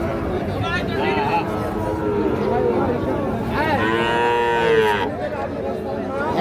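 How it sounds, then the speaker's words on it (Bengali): Sahiwal bull calves, five to six months old, low at a busy cattle market at Ambari haat, with several drawn-out moos rising over constant crowd chatter and nearby voices. "শাহিওয়াল ষাঁড় বাচ্চা"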